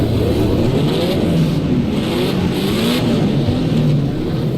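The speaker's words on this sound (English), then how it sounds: "It sounds a bit flat, this engine." A vintage Formula 3 racing car engine in a racing video game at Snetterton drones loudly and steadily, its pitch rising and falling as the revs climb and shift, with a slightly synthetic, game-like tone.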